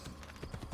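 Horse hooves clip-clop in Assassin's Creed 2, a quick run of hoofbeats close up and moderately loud, with no talk over them.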